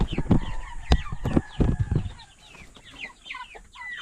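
Chickens cluck inside a coop on a small hillside farm, close and busy, with sharp overlapping calls and squawks in quick irregular bursts.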